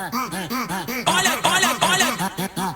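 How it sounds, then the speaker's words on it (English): Repeated rhythmic retching gasps with a tonal, pitched quality, like dry heaving, close and steady with short pulses. "Someone like dry heaving. It's not a very pleasant sound by itself"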